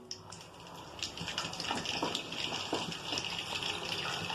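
Indian gooseberries fry in hot oil, a faint, busy bubbling and crackling that builds and continues steadily, close by with no talk.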